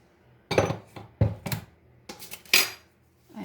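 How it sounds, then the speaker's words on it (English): Ice being added to a drink container of homemade electrolytes, several sharp clattering knocks and rattles in irregular bursts, close and fairly loud, with quiet gaps between. "and then I'm going to go add ice to it"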